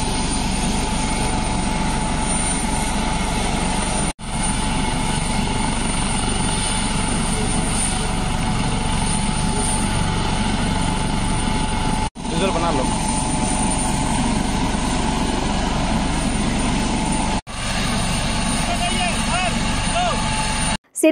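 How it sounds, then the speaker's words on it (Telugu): A helicopter carries a badly injured soldier to Raipur for treatment, its engine and rotor forming a loud steady roar that runs throughout with brief dropouts between cuts. "తీవ్రంగా గాయపడ్డ కుడియం సీతారాం అనే జవాను వైద్యం కోసం హెలికాప్టర్ ద్వారా రాయ్పూర్ తరలించారు"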